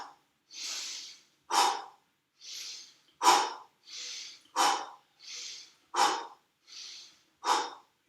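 Quick rhythmic yoga breathing, with sharp nasal inhales alternating with longer, breathy exhales through the mouth, about ten breaths in a steady fast pattern, close and clear with no talking.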